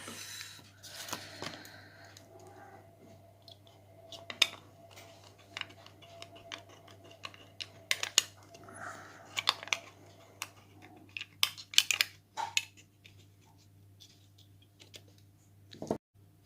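Scissors snip and pick at the seal on a jar of holo dip powder, a close, quiet run of small irregular clicks, scratches and crinkles over a faint steady hum.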